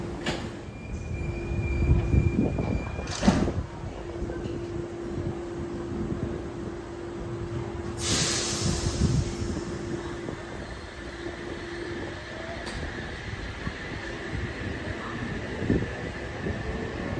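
NSW Oscar passenger sets H6 and H52 departing Gosford station on an all-stations service to Newcastle Interchange, with a loud rumbling train, rail noise, a sharp clack, and a high wheel squeal partway through.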